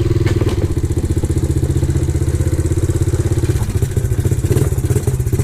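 A Red Kat 90 pit bike, running cold without the choke, rides through a yard with a steady loud rattling single-cylinder engine note that holds close and even for several seconds.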